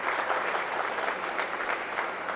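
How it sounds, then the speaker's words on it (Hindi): An audience at an army stage programme breaks into continuous applause, with dense, even clapping throughout. "एक बार तालियां हो जाना चाहिए"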